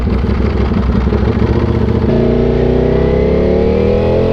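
Ducati V4 motorcycle under way, engine loud and close, revving hard before a quick-shifter gear change drops the pitch, then rising smoothly again in the next gear.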